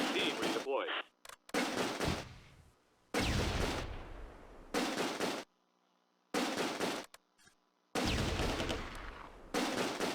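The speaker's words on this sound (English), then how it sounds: "A furious gun battle erupts against both the lone survivor of the reserve squad and the MG42 squad" Gunfire in a Close Combat World War II battle in a town, with an MG42 machine gun squad: loud bursts of rifle and machine-gun fire in several separate volleys with short silences between, close and harsh.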